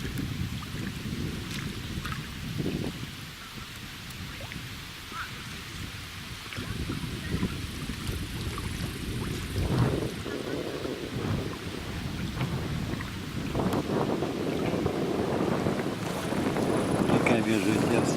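A strong headwind buffets a boat rafting down the Luga River in Russia, a continuous low roaring rumble with water splashes and gusts that swell toward the end.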